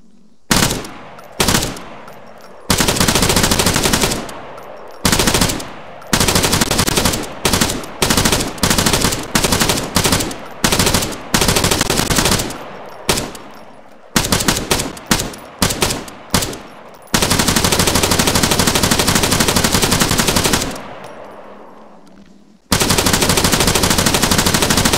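Bursts of automatic fire from a 5.56mm SAW machine gun with a 200-round box magazine in a video game mod, loud and close, from short rapid strings to long sustained volleys separated by brief pauses.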